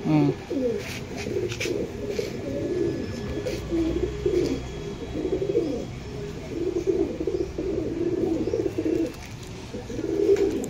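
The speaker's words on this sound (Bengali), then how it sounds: "পায়রা এটা রানিং এ আছে, উঠছে পায়রা" Pakistani pigeons coo repeatedly in a loft in Purba Bardhaman, low bubbling calls rising and falling in overlapping waves for several seconds, close and continuous, with a few sharp clicks and faint voices in the background.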